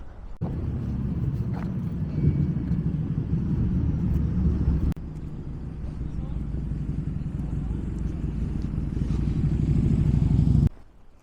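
Steady, loud low rumble of traffic on Connaught Drive, a four-lane dual carriageway at the edge of Jasper, holding constant for about ten seconds before cutting off abruptly.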